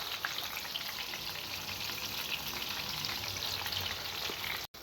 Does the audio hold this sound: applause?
no